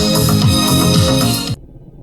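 A reversed pop song plays loud and dense with layered harmonic tones, then cuts off abruptly into near silence.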